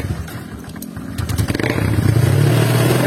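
Honda Vario 150 scooter being started, a brief starter clatter followed by the engine catching and revving up louder toward the end, close by.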